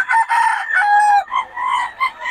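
Gamecock rooster crowing up close, one loud drawn-out cock-a-doodle-doo with a harsh harmonic call followed by a short trailing crow, alone with no talking.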